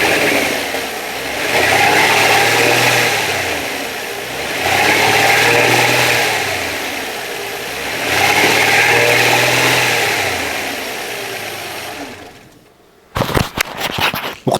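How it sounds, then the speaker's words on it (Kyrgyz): Nissan Maxima A33 engine running, revved repeatedly in three long swells of rising and falling mid-pitched engine noise, heard up close, followed by a few sharp clicks and bumps at the end. "Ал эми Maxima'да турган мотордун иштешин силерге бир угузуп кетели"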